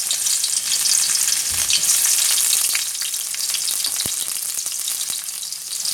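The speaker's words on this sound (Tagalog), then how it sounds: "Dito sa pinapainit nating mantika, gigisahin natin ang bawang, sibuyas," Garlic and onion sauté in heated oil with a loud, bright, crackling sizzle that is close and continuous, easing slightly after a few seconds. A low knock breaks in once, and nobody speaks.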